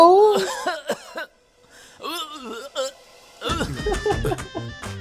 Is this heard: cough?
yes